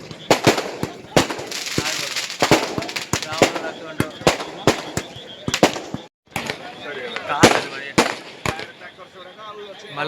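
Firecrackers burst at a Dussehra Ravana burning, a rapid irregular string of loud sharp bangs with brief gaps, crowd voices and commotion around them.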